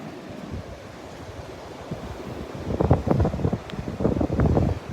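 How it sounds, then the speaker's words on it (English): Wind gusting across a beach at Delnor-Wiggins, rumbling and buffeting with rising, uneven blasts over distant surf, no voices. "I didn't want to be walking into the wind."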